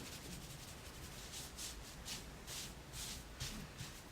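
Fingers rub dusting powder into a Dutch-braided hairstyle, giving a faint, close, continuous soft brushing with gentle swells, and no voices.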